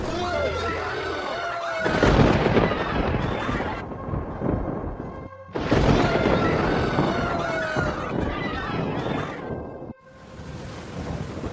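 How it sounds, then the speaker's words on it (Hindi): A dramatic thunderstorm sound effect from a Noah's ark flood story: heavy rain roars continuously while loud thunder cracks and rumbles twice, under music. "और वर्षा 40 दिन और 40 रात निरंतर पृथ्वी पर होती रही और आंधी तूफान के साथ जल उमड़ने लगा"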